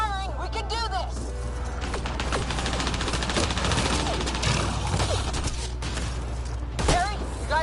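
Dense, sustained video-game gunfire fills the whole stretch, rapid bursts layered over a mechanical clatter, with voices shouting over and among the shots.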